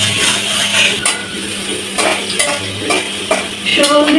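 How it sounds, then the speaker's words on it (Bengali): Onion, green chili, garlic and pulao bay leaf frying in oil for dal, a loud close sizzle with repeated scraping strokes of a spatula against the pot. "পেঁয়াজ, কাঁচামরিচ, রসুন, সুগন্ধি পাতা তেলের উপরে ভেজে নিচ্ছি।"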